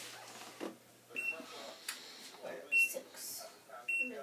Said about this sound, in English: And now I'll set the timer.